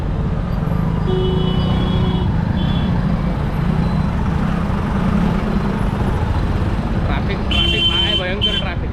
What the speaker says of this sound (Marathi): ट्रॅफिक आहे, भयंकर ट्रॅफिक.